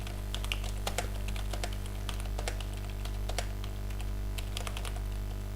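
Keys tapped on a computer keyboard while writing a document in Microsoft Word 2007, a steady close run of light clicks over a constant low electrical hum.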